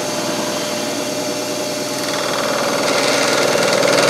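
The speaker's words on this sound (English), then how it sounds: "we got the dovetail cutter in, and we'll make the first pass with it" A milling machine cutting aluminum with a dovetail cutter, a loud, steady mechanical whine with a constant tonal hum that grows slightly louder and brighter toward the end.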